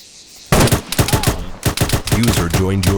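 Rapid gunfire in ArmA 3 during a British milsim section training assault on a shed, loud close bursts of sharp shots in quick succession, with a voice speaking among the later shots.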